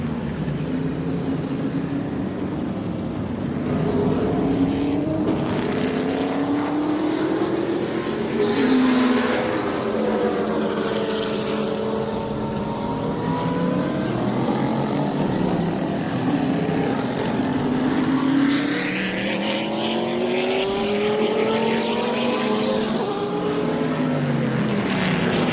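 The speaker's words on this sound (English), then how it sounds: "High-pitched whine that comes with the V12." A Group 44 Jaguar V12 race car at the American Speed Festival gives a sustained high-pitched engine whine that rises and falls as it passes, mixed with other cars' engines and no talk.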